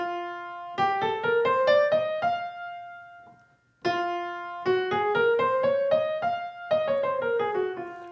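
A piano plays two modes both starting on F, each a rising run of notes over a sustained low F, the second pass starting after a short decay, clear and close.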